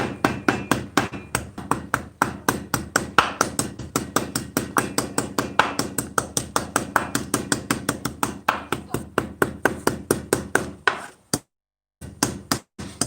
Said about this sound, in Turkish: Şimdi sıra zencefilimi döverken kullanmakta.